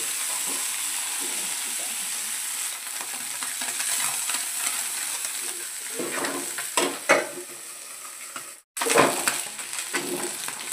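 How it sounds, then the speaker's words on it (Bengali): Small fish fry in hot oil in a pan, crackling and sizzling steadily up close, with scraping stirring noises, a brief cut near the end and the frying resuming right after. "ছোট মাছগুলো ভাজা হয়ে গেছে,"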